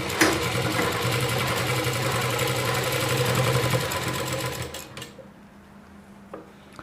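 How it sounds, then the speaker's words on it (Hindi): A sewing machine runs steadily to join lehenga panels, its rapid mechanical whir close and continuous for several seconds before stopping, followed by faint handling clicks. "यहाँ पे इस किनारे से हमें सिलाई को लगा देना है"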